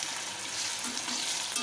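Sabudana and potato sizzle and fry in a pan while being stirred, a dense steady crackle with soft scraping, close and continuous.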